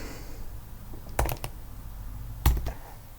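Two short bursts of computer keyboard typing while entering text in Inkscape, each a quick cluster of clicks separated by about a second of quiet room tone.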